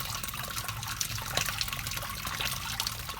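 Pumped sparge water flows steadily in a BrewTools B80pro beer brewing system during an American wheat brew day, a continuous close trickle and splash with no talk over it.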